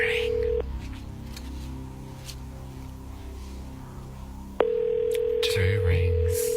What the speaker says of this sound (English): You find it interesting the different dial tones when ringing people?